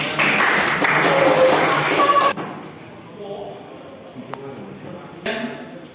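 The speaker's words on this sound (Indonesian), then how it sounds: "Berikan tepuk tangan." A classroom audience claps in a brief, dense burst of applause that cuts off sharply after about two seconds, followed by quieter room sounds and a few isolated taps.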